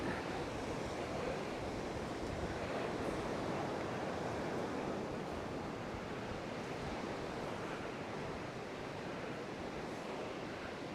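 Sea waves wash continuously onto the small beach along the Paphos seafront, a dense, even roar of surf mixed with wind buffeting the microphone, with no voices.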